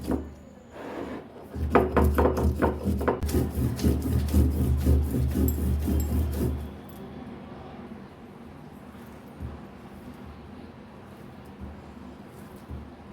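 Spices ground into paste on a stone grinding slab, giving rhythmic, loud scraping and rubbing strokes for several seconds before fading to quieter background noise.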